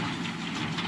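A Kubota MU5702 tractor engine idles with a low, steady rumbling drone, close and continuous over a brief moment with no talk.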